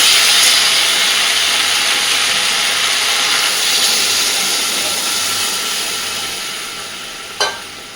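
Water poured into a pan of fried okra and potatoes, giving a steady broad sizzling hiss that slowly fades over several seconds, with a brief sharp clink near the end.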